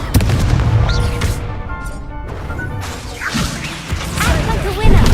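Confringo blasting-spell explosions go off during a Hogwarts Legacy duel: loud crashing blasts and bursts in quick succession, with a strong impact at the very end, mixed with other combat noise.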